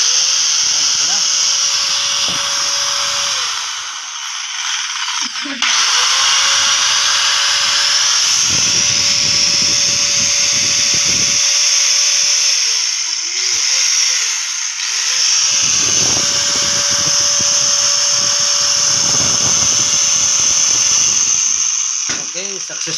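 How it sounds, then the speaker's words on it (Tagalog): An angle grinder running after a bearing repair gives a steady high whine, loud and close, spinning up and winding down several times across the run with short pauses between. "iti-try na natin yung pag-assemble natin sa grinder kung okay na"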